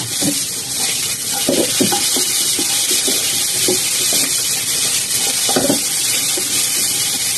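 Diced potatoes stir-frying in a hot wok, a steady loud sizzle with intermittent scraping, clattering stirs from a spatula, close and continuous, with no talking.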